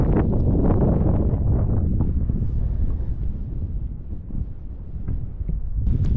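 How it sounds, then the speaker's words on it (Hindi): Cold wind gusting across a high mountain lake at Parvati Sarovar, Adi Kailash, a loud, steady roar buffeting the microphone with a slight lull midway and no voices. "यहाँ पे जो ठंडी हवा चल रही है ना कसम से अभी मैं पूरा ठंडा हो चुका हूँ"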